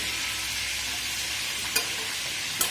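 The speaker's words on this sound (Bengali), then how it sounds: "মশলাটা কষাচ্ছি।" Masala paste fries in a pan beside fish roe, a soft continuous sizzle broken by two sharp scrapes of a spatula stirring, fairly quiet and with no one speaking.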